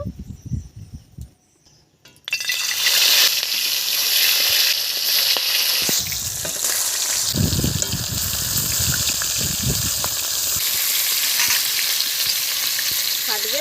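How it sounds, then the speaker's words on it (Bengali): Fresh rainy-season magur catfish drop into hot oil in a village kitchen and set off a sudden loud, steady sizzling hiss. Quiet handling sounds come just before it, and the frying continues close and unbroken after that. "তেল গরম হয়ে গেছে এবার আমি মাছগুলো ভেজে নেব"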